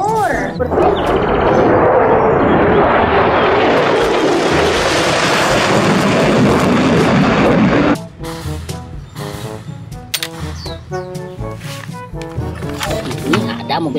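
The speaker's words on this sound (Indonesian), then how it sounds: "Pesawat jet tempur." A toy fighter jet plays a loud, continuous roaring whoosh that swells, then cuts off abruptly; a voice talks over the quieter remainder with scattered clicks and knocks.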